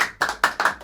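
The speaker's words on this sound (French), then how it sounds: "Direct dès qu'on rajoute les applaudissements, c'est incroyable" Applause added as an effect in a podcast: a short burst of hand clapping, sharp irregular claps in quick succession, fairly close and alone without speech.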